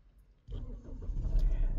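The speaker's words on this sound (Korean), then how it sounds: "네, 시동 걸렸습니다." A Kia Sportage with a failed alternator that had stalled and would not restart turns over and catches, its engine rising abruptly to a close, steady running rumble after a moment of near silence.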